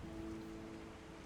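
A faint, steady hiss of rain falls as low background ambience during a tabletop role-playing session, even and continuous, with no voices over it.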